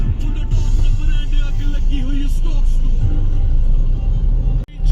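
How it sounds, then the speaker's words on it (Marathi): Steady road traffic rumbles near Fort Jadhavgadh in Pune, with a dense low drone of cars and engines throughout and a brief drop near the end. "तुम्ही बघू शकता किती ट्रॅफिक आहे"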